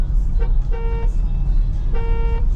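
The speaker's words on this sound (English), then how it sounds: "When I honk, it sounds like this." Two short Tesla car horn honks over a low engine rumble, each a thin single-pitched toot lacking the usual fuller dual-tone blast, one of the horn's two tones broken.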